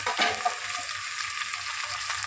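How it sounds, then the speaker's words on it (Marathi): Finely chopped tomato sautéing in ghee, a dense hissing sizzle with a stirring scrape at the start, close and steady, no speech. "आणि टोमॅटो पण छान परतून घ्यायचा"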